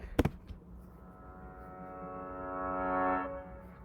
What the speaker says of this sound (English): you probably hear the reversed piano